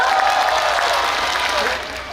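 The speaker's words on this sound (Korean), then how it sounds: "우리 고생하시는 음향 감독님께도 박수 한 번 부탁드리도록 하겠습니다" Crowd applause for the sound engineer at an outdoor riverside festival concert in Naju, steady dense clapping with scattered cheers and a voice over it, tapering slightly near the end.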